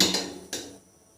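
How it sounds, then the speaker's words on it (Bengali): A metal wok (kadai) set down on a lit gas stove burner in a home kitchen: two close, sharp metallic clanks about half a second apart, then a quiet fade. "এবার এই যে কড়াইটা বসিয়ে দিলাম"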